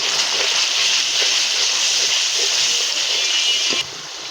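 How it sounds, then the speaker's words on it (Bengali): Water is poured into spices frying in a pan, producing a steady loud hiss and sizzle that drops off abruptly near the end, with no talking. "পানি দিয়ে দিলাম"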